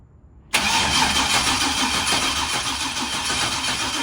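A street truck fitted with new exhaust mufflers fires up abruptly after a moment of quiet, then settles into a loud, steady, rumbling idle close by.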